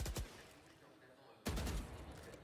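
Gunfire from the Valorant video game during a competitive match: a short burst of shots at the start, a pause, then a loud, dense volley of rapid shots.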